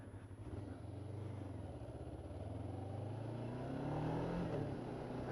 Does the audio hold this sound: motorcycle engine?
yes